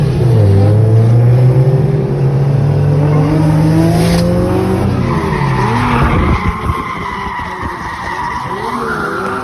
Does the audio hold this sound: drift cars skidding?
yes